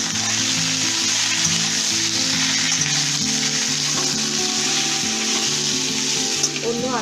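Carrot, papaya, green beans, flat beans and ridge gourd frying in a pan for shukto: continuous loud close sizzle with occasional stirring, a low steady hum beneath.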